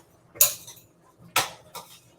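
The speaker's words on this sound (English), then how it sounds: "I just put the garlic cloves in there. Can y'all see it? We're gonna stir that around." Garlic cloves stirred in a cooking pan with a utensil, giving three sharp metallic clinks and scrapes spaced about a second apart against a quiet background.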